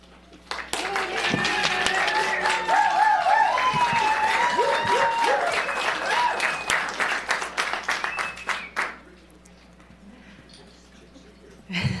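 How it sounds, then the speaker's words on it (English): Audience applause and clapping at a county board of supervisors public meeting, a dense sustained burst for about eight seconds that fades out, with scattered voices and cheers mixed in. "if we could do this instead of clapping, I would really appreciate it"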